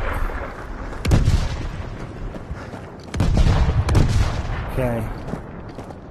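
Gunfire in the VR shooter Zero Caliber 2, with several heavy booming shots and rumbling blasts spread across the clip, close and loud, while a voice speaks briefly.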